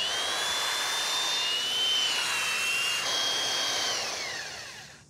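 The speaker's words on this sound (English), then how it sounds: "time for a little tickle up with the sander" A power sander whines steadily over a wooden gate for several seconds, loud and close, its pitch shifting slightly as it moves, then fading out at the end.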